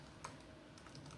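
Soft typing on a computer keyboard while entering text into a new WordPress page, a few faint, scattered clicks over a quiet background hum.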